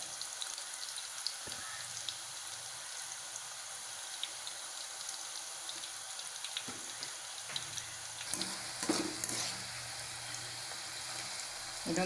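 Malabar sweet dough with sesame sizzles and crackles in hot oil, with a steady frying hiss, scattered pops and a few louder spatters and clinks near the end.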